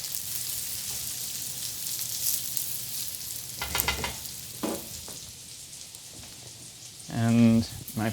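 Green onions and mushrooms sizzle in a pan for gluten-free spinach ravioli, a soft steady hiss broken by louder scraping stirs of a utensil, the biggest burst near the end.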